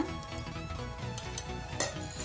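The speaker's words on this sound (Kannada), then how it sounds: "ಎಲ್ಲನೂ ಒಂದು ಬೌಲ್ ಮಿಕ್ಸ್ ಮಾಡ್ಕೊಳ್ಳೋಣ" Coconut, roasted gram and jaggery stirred together in a bowl, with a steady stream of light scraping, clinking and rustling close by, no voices.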